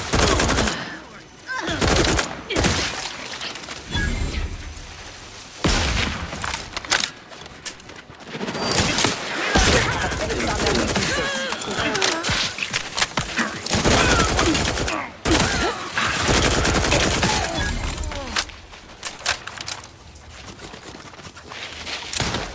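Sustained, dense bursts of gunfire in The Outer Worlds 2 video game rattle on almost continuously for over twenty seconds, with occasional brief pauses and voices speaking intermittently under the shooting.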